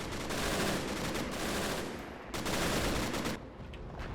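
Flak guns firing in the video game Men of War: Assault Squad during a D-Day Normandy landing battle, a dense rapid barrage of booming shots that dips briefly, then resumes with sustained loud gunfire.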